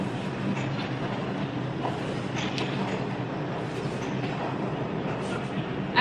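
A New York City subway train rumbling loudly and continuously underground, with rattling and clattering from the cars and faint voices under the noise.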